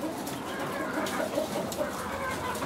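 Heavy Brahma chickens in a coop with spiral ladder perches, making steady low clucking and cooing calls close by over a constant background murmur, with no talking.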